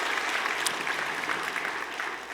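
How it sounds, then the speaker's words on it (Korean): Sustained applause fills a church sanctuary at a Sunday service marking the church's anniversary, an even, moderately distant roar of many hands clapping. "응원하고 격려하는 박수하도록 하겠습니다."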